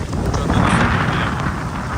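Cyclone Remal's wind and rain rush past in a loud, continuous roar, with gusty buffeting on the microphone and no pause throughout.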